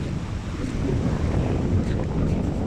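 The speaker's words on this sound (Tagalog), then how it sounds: "Malakas ng dagat." Rough, whitecapped sea off an island roars steadily with strong wind buffeting the microphone, a continuous low rumble of surf and gusts with no voices.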